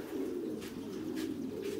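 Pigeons coo softly and continuously inside a tall-walled pigeon coop with ventilation holes, a low steady murmur of several birds, fairly faint and without speech.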